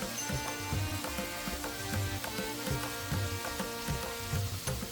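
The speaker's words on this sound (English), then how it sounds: "Then I add the lamb and sear it for about 5 to 7 minutes until browned." Lamb searing in ghee in a saucepan, a steady crackling sizzle with a faint repeating stir-like rhythm underneath, close and moderately loud with no talk.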